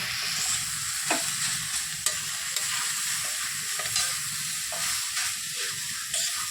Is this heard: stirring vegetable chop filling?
yes